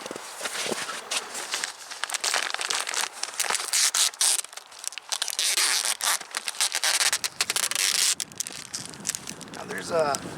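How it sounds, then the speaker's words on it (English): Packing tape being torn and stuck down to seal a beehive in December against wind, a run of close, loud crackling rips and scrapes that come and go over several seconds. "So I'm just going to tape it up just to prevent"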